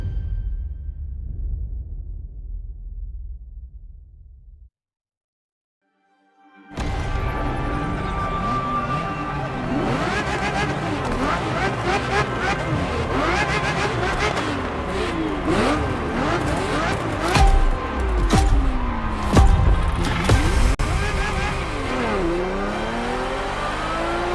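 Ferrari F50 engine driven hard in The Crew Motorfest, starting with a low rumble, a brief silence, then a loud revving engine with rising and falling pitch sweeps through gear changes, continuous and close.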